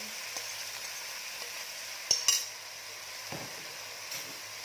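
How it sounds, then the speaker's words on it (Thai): Shanghai noodles and garlic chives are stir-fried in a pan with a steady soft sizzle, close by, broken by a few sharp metallic clinks from a utensil. "เราจะใส่เส้นลงไปเลยนะคะ เส้นเขาจะได้สุกไปด้วยกัน"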